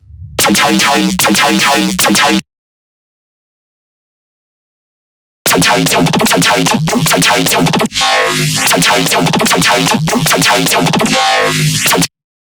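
Laser choppy bass synth patch built in Serum, loud gated stabs that cut off abruptly, a short burst followed by silence and then a longer run of gritty chopped bass notes.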